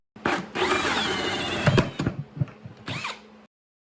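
A step drill bit bores through plastic while a DIY shop-vac dust cyclone is being built. The drill whines and grinds in a few uneven bursts for about three seconds, then stops abruptly, close up and without speech.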